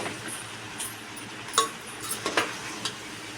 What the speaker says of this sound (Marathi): आता एकदा आपण व्यवस्थित छान परतून घेऊया